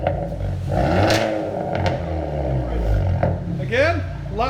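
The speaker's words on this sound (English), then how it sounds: "Again, just like rev it real good." A 2019 Hyundai Veloster N with straight pipes and the muffler removed revs loudly up close, its raspy exhaust surging and falling across several blips, with people talking and exclaiming over it.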